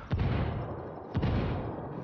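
Gunfire in the video game Ghost Recon Wildlands, two heavy, booming shots about a second apart, fairly far off and muffled, over a steady low background rumble.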